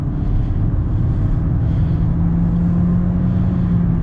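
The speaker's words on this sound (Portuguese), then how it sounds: "Agora eu vou dar uma pisadinha aqui só para a gente ouvir na questão de aceleração" A Toyota Corolla's steady, low engine drone rumbles continuously at even volume during acceleration, muffled as heard from inside the car, with the pitch rising only slightly.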